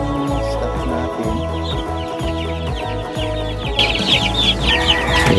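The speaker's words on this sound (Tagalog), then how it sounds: "sa mga chicks natin dito sa breeding area" Chickens and young chicks in a breeding area cluck and cheep continuously, a dense overlapping chorus close by, with brighter peeping bursts toward the end.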